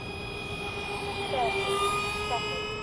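A foam-board model plane with twin 70mm electric ducted fans cruises at low power, giving a steady high-pitched whine with a faint shift in pitch as it passes, heard continuously from a distance.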